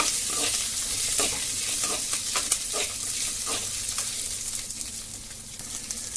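Onion, garlic, coconut and tamarind sauté in a pan for sundakkai thuvaiyal, a close sizzle broken by repeated scraping stirs of a spoon against the pan, with no one talking.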